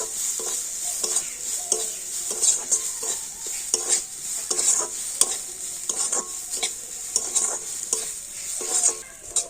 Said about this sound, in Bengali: তো আবার আমি সবকিছু একটুখানি ভেজে নেব।